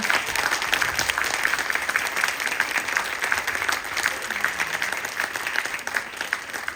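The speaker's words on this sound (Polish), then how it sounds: "Bardzo wielkie brawa dla mnie i dla pani Natalii" Audience applause at a Polish cultural event presenting a painted-fairy-tale project on Nikifor and Andersen, a steady dense patter of many hands lasting throughout at moderate-to-low volume, with no voices over it.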